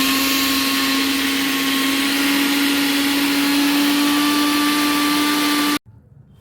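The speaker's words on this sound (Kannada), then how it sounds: "ನಾನು ನುಣ್ಣಗೆ ರುಬ್ಕೊಳ್ತಾ ಇದ್ದೀನಿ" Electric mixer grinder blending coconut with a little water into a fine paste, a loud, steady whining motor hum that runs evenly for several seconds, then cuts off abruptly, leaving faint rattling.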